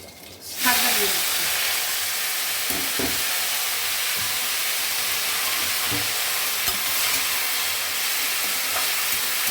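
Spinach greens drop into hot oil with fried garlic and burst into a loud, broad sizzle that holds steady for several seconds, with occasional light stirring knocks underneath.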